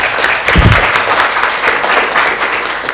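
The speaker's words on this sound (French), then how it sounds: "Vos applaudissements s'il vous plaît." A crowd applauds steadily at a debate and public speaking contest, a dense wash of clapping that stays loud from start to finish.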